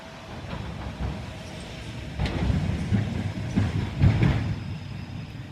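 Freight trains rolling past, a heavy low rumble swelling as cars go by, with rhythmic clickety-clack of wheels over rail joints and occasional faint metallic squeals.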